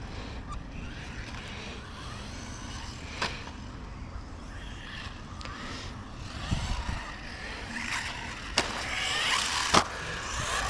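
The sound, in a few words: Hosim M13 RC truck driving on a track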